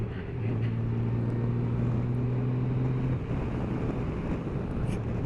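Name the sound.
Honda Gold Wing motorcycle riding with wind noise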